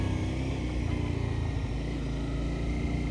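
Car engine droning steadily at a low pitch while the driver downshifts, a constant close hum with no clear rev change and no talking.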